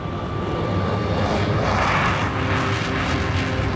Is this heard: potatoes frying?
no